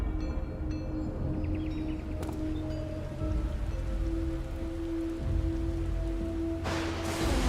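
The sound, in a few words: rain falling in the video game Final Fantasy XIV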